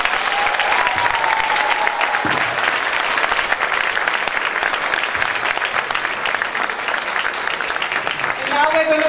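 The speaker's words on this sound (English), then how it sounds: "Come on, we can give them a louder hand than that." Sustained audience applause at a school stage performance in Karachi, a dense continuous wash of clapping from a crowd filling the hall, steady throughout with a voice emerging at the very end.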